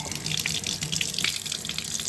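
Tap water runs steadily into a laundry sink, a continuous splashing hiss with no voices over it.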